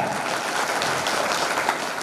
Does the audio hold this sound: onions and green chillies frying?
no